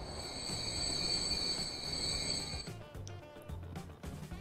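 A livestock train runs along the track in the simulation game Transport Fever, giving a steady rumbling roll with a high sustained wheel squeal that cuts off partway, leaving lower clattering rail noise.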